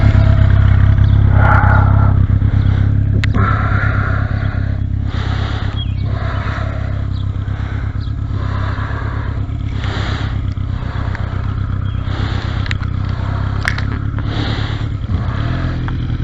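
Motorcycle engine during a roll start, running with a loud, rough, throbbing rumble and uneven pulsing revs close by, continuing steadily throughout with a faint clatter.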